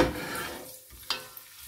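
Pasta frying in fat in a pan for túrós csusza, a soft sizzle fading under stirring, with a couple of sharp scrapes of utensil against the pan.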